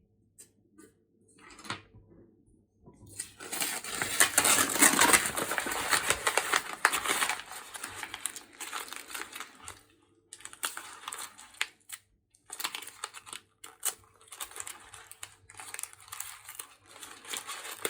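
Paper artwork being scrunched up and torn, with dense crackling crinkles and rips, loud and close, coming in bursts separated by brief pauses.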